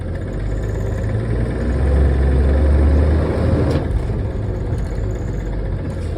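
A school bus engine runs with a steady, loud mid-low rumble as the bus creeps forward at about 5 mph, the drone swelling slightly then settling with no talk over it.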